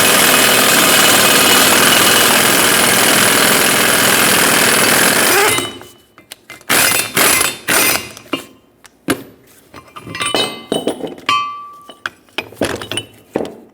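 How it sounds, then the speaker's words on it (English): A ball joint press forces a front ball joint out of a 2000-2005 Ford Excursion: a dense, loud grinding rattle that stops abruptly, then a string of sharp metallic clinks and knocks, close and with no voices. "A receiving cup, adapter, and the ball joint press, pressing it right up and out."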